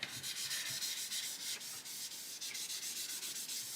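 A colouring pencil is rubbed hard back and forth on paper in an adult mandala colouring book, a close, steady scratchy rasp in quick repeated strokes with no talking.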